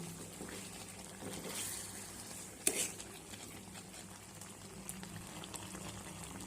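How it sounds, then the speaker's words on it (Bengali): Raw mango pieces simmer in sugar syrup with a pinch of salt, giving a soft continuous bubbling, with one brief sharp clink partway through and no talking. "খুব সুন্দরভাবে আমটা রসের সঙ্গে ফুটছে"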